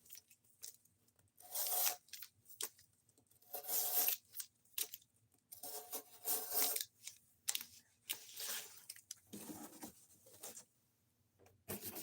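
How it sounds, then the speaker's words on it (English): A knife slices through cardboard in an edge retention test, giving repeated close rasping, tearing strokes in irregular bursts separated by short quiet pauses, with no talk. "We're looking to see how much cardboard we can cut up before the edge of this knife is just completely fucking wrecked."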